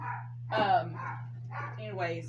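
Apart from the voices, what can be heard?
dogs barking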